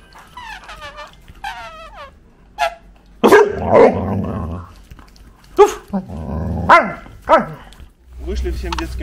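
Dogs at an animal shelter bark and growl in sharp, irregular bursts, some near and loud, mixed with a few higher yips and with people talking in between.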